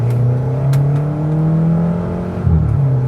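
A stage 1 tuned VW Polo GT TSI with a Borla exhaust holds a loud, steady engine drone close by, then dips and surges briefly as a gear shift goes through near the end.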